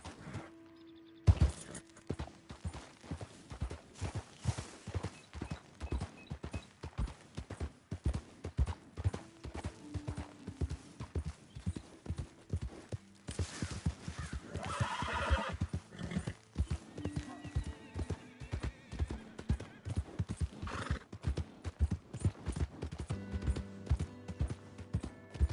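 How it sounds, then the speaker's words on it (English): Rapid hoofbeats clatter in a steady galloping rhythm in Red Dead Redemption 2, with a horse's neigh rising partway through, all fairly close and continuous. "My horse!"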